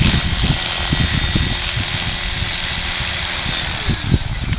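A radio-controlled model aircraft motor runs at a high, steady whine on a windy day at the flying field, loud and close, with gusty wind rumble underneath and a slight dip near the end.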